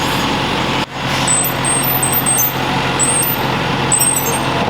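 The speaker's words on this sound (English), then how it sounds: "I hope that's not a squealing bearing I'm hearing, but I fear it might be. That'll be a mixer bearing again." A mixer with a failing bearing gives intermittent high-pitched squeals over a continuous rumbling running noise, with a sharp knock near the start.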